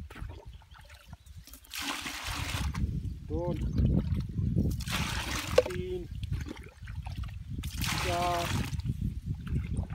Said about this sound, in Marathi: 6 लिटर पाणी घेऊया